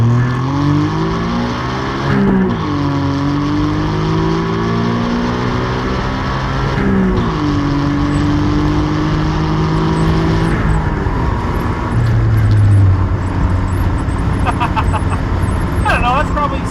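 A 1992 Suzuki Cappuccino's small turbocharged front-mounted engine drones steadily from inside the car while driving, its pitch sliding up and dropping back at a few gear changes over sustained road and wind noise.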